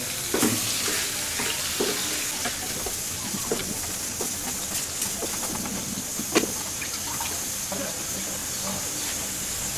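Ash gourd pieces sizzle steadily as they are stirred and frying in a pan, with a constant hiss broken by scraping stir clicks throughout.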